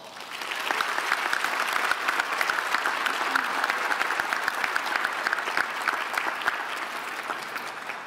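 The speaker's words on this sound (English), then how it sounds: "please give them a round of applause." Sustained applause from a large audience at a biomedical sciences graduate school commencement, dense and even clapping holding at a strong level throughout without pause.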